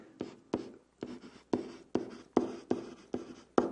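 Handwriting a topic sentence with pen on paper, a close, steady series of about ten scratchy strokes at a regular rhythm, with no talking.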